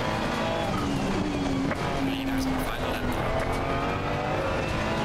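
Ferrari 296 race car engine droning steadily through a night sim race, with a constant roaring hum and tonal whine shifting in pitch, loud and continuous under occasional speech.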